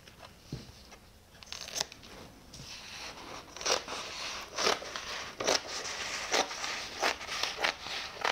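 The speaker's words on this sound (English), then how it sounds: "I will have different scissors for each kind of fabric." Repeated crisp snipping and crunching as scissors cut through stiff carbon fiber fabric, cuts coming in a loose rhythm, close and fairly quiet.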